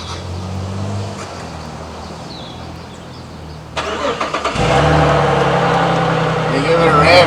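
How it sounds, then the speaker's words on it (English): A Suzuki Grand Vitara V6 fitted with a free-flow exhaust cranks and fires up, then revs loudly and roughly close by, with a quieter stretch of background noise before it. "You give it a rev, dude."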